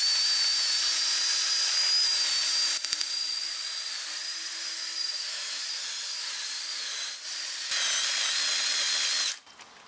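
A power tool with a polishing attachment whines steadily at high pitch while cleaning the wheel hub around the studs on a 2018 Jeep Wrangler Unlimited Sport, loud and close with brief dips in load before shutting off.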